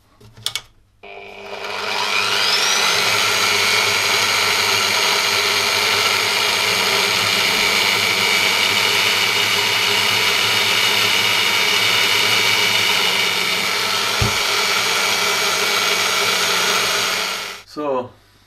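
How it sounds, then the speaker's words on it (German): A power drill spins up to pre-drill holes for an Einhell GE-CM 33 Li mower mulching insert, running at a steady high whine for about fifteen seconds, close and loud, then winds down and stops. "So, als nächstes werde ich da die Löcher gleich vorbohren auf die richtigen Punkte."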